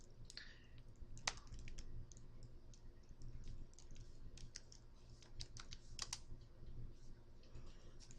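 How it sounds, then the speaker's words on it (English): A code being typed on a computer keyboard, with quiet irregular key clicks and taps spread across the stretch over a faint low hum. "Type in the code that it gives you on your screen."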